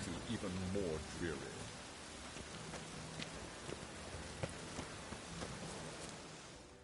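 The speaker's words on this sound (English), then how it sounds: "Rain makes the city even more dreary." Continuous rainfall over a city in The Witcher 3 video game hisses evenly over the whole stretch, with occasional drops tapping, and a voice speaking briefly near the start.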